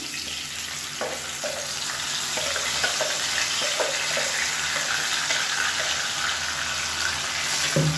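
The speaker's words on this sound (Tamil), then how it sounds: "இப்போ இதில் நம்ம அரைச்சி வச்சுருந்த சட்னியை வந்து சேர்த்துக்கலாம்." Ground chutney sizzles in hot oil with mustard seeds and curry leaves in a home kitchen pan, a constant hissing fry with faint clicks of stirring, close and steady, with no talk.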